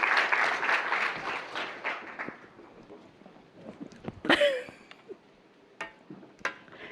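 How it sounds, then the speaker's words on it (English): An audience at a live talk event applauds, a dense burst of clapping that fades over about two seconds, followed by scattered sharp sounds and a sneeze-like noise in a quieter room. "It's just like they just clapped"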